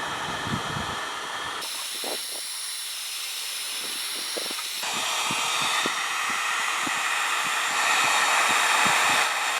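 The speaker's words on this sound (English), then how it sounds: "I'm going to take it out with a heat gun." A heat gun blows a steady, loud hiss while heating a creased rubber bumper, the airflow cutting in and out with a few soft knocks.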